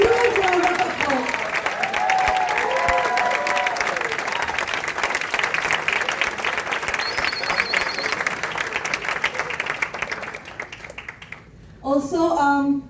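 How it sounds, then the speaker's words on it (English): A large audience at a training session gives a sustained round of applause, dense and continuous for about ten seconds, with a voice speaking over the start before the clapping stops and talk resumes. "Give them another huge round of applause."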